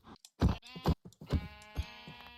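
Sheep in Minecraft bleat in several short, close, harmonic calls spread over a couple of seconds, with brief gaps between them and no talking.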